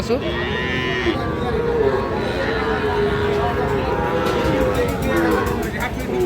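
Cattle and calves low repeatedly at a busy livestock market, their overlapping moos close and loud over a steady crowd murmur with people talking throughout.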